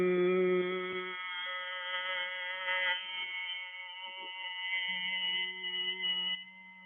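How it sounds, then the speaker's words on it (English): A steady nasal hum of Bhramari pranayama humming breath on a long exhalation, a sustained harmonic drone lasting several seconds with gentle swells, close and alone. "you breathe out with a Brahmari sound like this"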